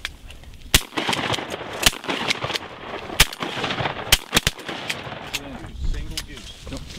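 Gunfire during a wounded warriors hunt outdoors: several sharp, loud shots spaced irregularly, with voices talking in the background between them.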